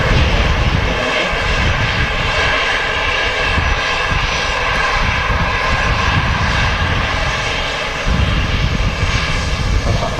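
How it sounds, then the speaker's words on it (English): An EasyJet Airbus A320 jet airliner arriving on the runway at Manchester Airport, a loud, steady engine roar that holds across the whole stretch with no speech. "The EasyJet arriving here. A320 with the reg"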